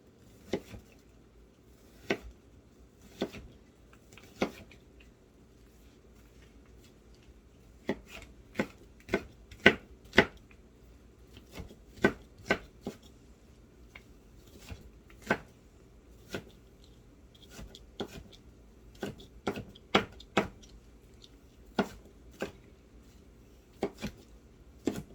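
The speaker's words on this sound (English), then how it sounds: "I'm going to cut this onion up." An onion chopped with a knife on a cutting board, sharp distinct thuds at an uneven, unhurried pace, close and clear with no talking.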